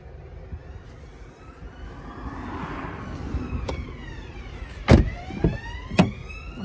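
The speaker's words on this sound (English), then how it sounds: "electric windows in the rear." Electric windows whir in a Fiat 500L car, a rising motor hum with soft mechanical clunks as the glass reaches its stops, close and moderately loud with no talk.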